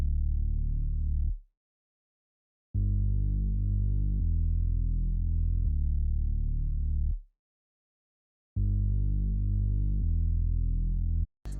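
Bass line made in FL Studio for a guitar-melody beat: loud, deep sustained bass notes in long held phrases broken by short silences, slightly distorted, heard alone.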